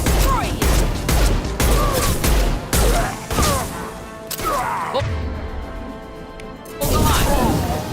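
Video game gunfire in rapid volleys with crashing impacts, loud and close, alongside shouted voices and game chatter.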